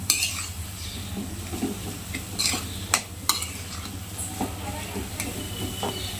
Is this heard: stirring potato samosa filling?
yes